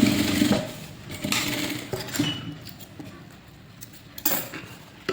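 A sewing machine stitching the front part of a blouse, running in short bursts with clicks and metallic clatter, close and fairly loud with uneven pauses.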